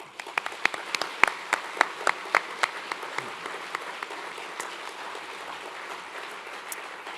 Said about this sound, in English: join me in having another round of applause to all of our generous sponsors and donors